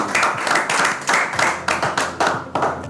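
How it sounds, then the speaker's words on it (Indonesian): An audience claps together in steady, dense applause that continues throughout without voices. "kita beri tepuk tangan lagi buat Lexi"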